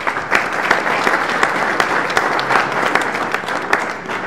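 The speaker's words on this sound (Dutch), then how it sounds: "Ik vraag u daarvoor een applaus" Steady, fairly loud applause from the audience at a municipal sports awards ceremony in Schiedam, with some sharp individual claps standing out near the front as the clapping continues evenly for several seconds.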